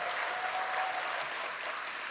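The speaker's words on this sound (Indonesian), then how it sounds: "Berikan tepuk tangan hebat bagi dia." An audience at a church gathering applauding loudly, a dense, steady wash of many hands clapping at once that holds throughout with only faint voice traces.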